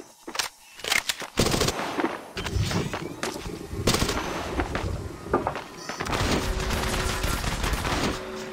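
Rapid automatic weapon fire from the Apex Legends battle royale game, dense bursts and sustained volleys with brief gaps, loud and close, with in-game voice callouts mixed in.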